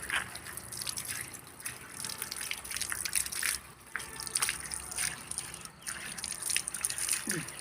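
Colocasia (taro) leaves and stems being washed in water, with a steady splashing, trickling flow and dripping that runs throughout at close range, briefly easing midway.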